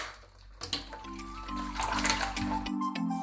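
Water runs steadily from a tap while a Kool-Aid dyed wig is rinsed, a close, continuous splashing stream with a humming pipe tone and small shifts as the hair moves under the flow.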